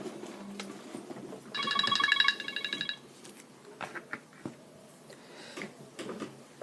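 A telephone rings in a short burst of bright electronic trills lasting about a second and a half, followed by quiet background shuffling.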